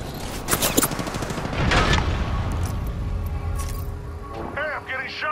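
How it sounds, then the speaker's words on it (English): Gunfire in Apex Legends hitting the player: rapid volleys of close shots and impact cracks, fading into lighter game effects and chirping tones, with speech in the background. "Hey, I'm getting shot!"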